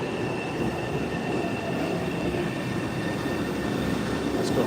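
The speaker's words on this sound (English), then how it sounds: "The Ashmont train." An MBTA Red Line Ashmont subway train rumbles steadily at a station, with a continuous low roar and faint high squealing tones from the wheels and motors.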